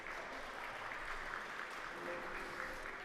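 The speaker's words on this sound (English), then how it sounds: "there is a roar of applause from the crowd as the pilots collect their quads" Crowd applause at the finals of a UK tiny whoop drone racing championship, a faint, steady wash of distant clapping heard alone, without close-by talk.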